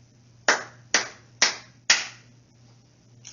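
Four sharp hand claps in a steady, evenly spaced rhythm, close and crisp, each followed by a short room echo, with a faint hum underneath.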